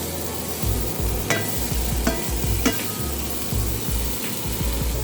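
Fresh garden tomatoes stirred in a sizzling pan during a karela and shrimp dish, steady frying hiss with a few sharp utensil scrapes and clicks, close and alone.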